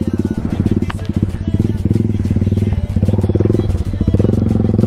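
Off-road motorcycle engine running steadily and loud, with a throbbing low rumble as the bike is ridden across rough terrain, no voices over it.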